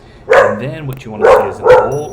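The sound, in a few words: dog barking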